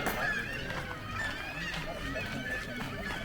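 Gulls calling from a rooftop nesting colony in Norway in a noisy chorus of overlapping cries, continuous and moderately close, with some faint voices underneath.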